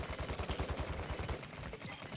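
Rapid automatic gunfire from the video game Warzone 2.0, a fast steady burst of loud close shots in the first half that thins into scattered, softer fire toward the end, with no talk.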